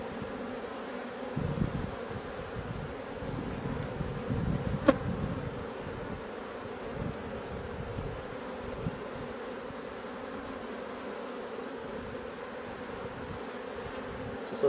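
A dense, steady drone of honeybees buzzing from an open hive with several frames of brood, fairly faint and continuous, with no talking.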